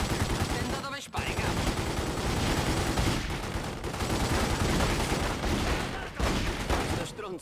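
Dense, continuous gunfire in the Il Padrino 2 video game fills the whole stretch, a loud fusillade of overlapping shots with only brief dips, with a voice briefly audible under it.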